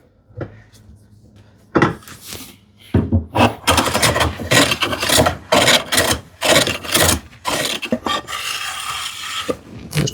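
A hand tool breaks the corners of a wooden board during a hand-tool cupboard build. Repeated close rasping strokes come in uneven bursts, after a quieter opening, with no voices.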